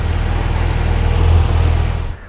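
A BMW inline six-cylinder engine runs steadily with the bonnet open, a dense, even close-up rumble that holds for about two seconds before cutting away.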